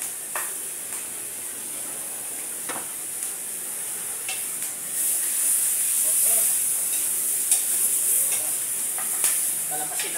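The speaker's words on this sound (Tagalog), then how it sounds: "Kailangan natin gisado talaga." Pork sautés in its own fat over a strong wood fire, a steady loud sizzle with occasional stirring scrapes and clatters, growing a little stronger midway.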